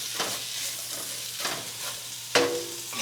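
Vegetables for a coconut curry shrimp dish sauté quietly in a pot with a soft sizzle. Several scraping stirs break in at intervals, and a sharper clank sounds near the end.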